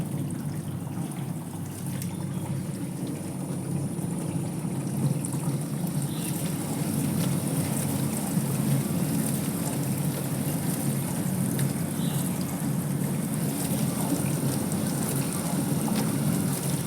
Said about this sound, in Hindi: इस मशीन से पानी स्प्लैश होने की आवाज़ आती है